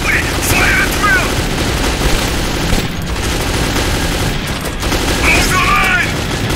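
Sustained gunfire in the video game Metro 2033, a steady, loud stream of overlapping shots and bangs that fills the whole stretch, with shouted voices and game sounds mixed in.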